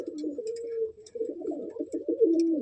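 Madrasi pigeons in a loft coo in repeated low, throaty phrases, close and continuous, with no talking.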